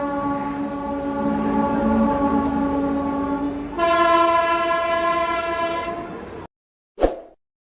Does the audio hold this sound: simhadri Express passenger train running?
yes